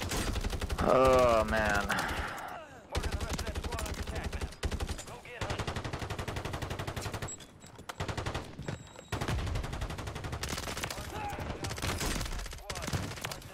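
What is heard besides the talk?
SOA Subverter gunfire in the video game Warzone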